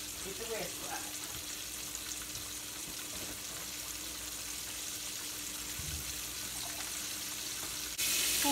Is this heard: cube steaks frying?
yes